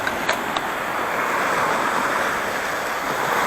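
South China Sea waves wash continuously onto the shore with a broad, steady roar, plus a couple of faint clicks near the start.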